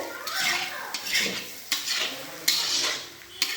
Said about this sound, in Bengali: কষা হচ্ছে উপরে ঘি দেওয়া হবে কাকি রান্না করছে